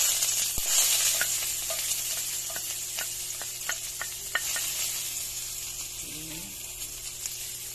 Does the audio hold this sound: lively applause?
no